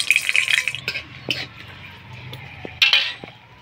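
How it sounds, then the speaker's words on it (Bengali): Dry red chilies, bay leaves, five-spice and crushed ginger are dropped into hot oil to temper chana dal, giving a loud hissing sizzle with metal utensil clinks and stirring scrapes nearby. "তেল গরম হয়ে গেছে, দিয়ে দিব শুকনো লঙ্কা"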